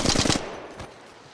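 Rapid automatic gunfire from the Apex Legends Mobile game: a short, dense burst of about five quick shots, close and loud, then fading into a faint tail.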